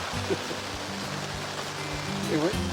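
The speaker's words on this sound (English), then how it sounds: "it's raining pretty good" Heavy rain pours down at a campground in Arizona, a steady hiss of falling water, with a voice and some tonal humming sounds mixed in over it.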